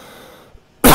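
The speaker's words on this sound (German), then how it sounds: "Der Husten kommt jetzt auch wieder." A single sharp, loud cough bursts in near the end after a stretch of quiet low background hum, close to the listener with no talking.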